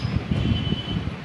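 Passenger train on the Kollam to Alappuzha line, a low continuous rumble of wheels and carriage with a faint high whine, heard from on board, steady and unbroken.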